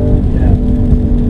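An Audi RS6 Avant with a 4-litre twin-turbo V8 tuned to 760 bhp gives a loud, close, deep rumble as the engine revs in a short burst.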